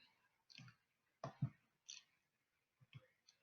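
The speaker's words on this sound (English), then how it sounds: "So now you can do a right click" Faint computer mouse right-clicks on a desktop while copying table rows into SQL Server: a few short, dry clicks spaced irregularly, close to the microphone, with quiet gaps between them.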